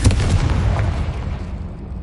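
Confringo fire spell in a Harry Potter video game, a single loud, deep explosive boom with a rumbling tail that fades over about two seconds.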